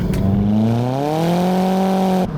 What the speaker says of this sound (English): that wasn't torque steer, that's just spinning a wheel